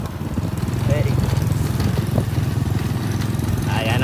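Motorcycle engine running on a rural road, a steady low chugging putter near and continuous, with voices talking over it.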